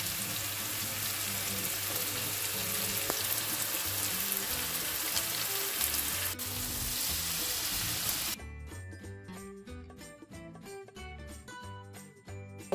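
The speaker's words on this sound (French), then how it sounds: "On met l'oignon, la tomate, l'ail et le paprika et ensuite on laisse réduire à feu moyen pendant 5 minutes." Onion, tomato, garlic and paprika fry for a seafood paella in a pan, a soft steady sizzle and crackle, later joined by faint clinking.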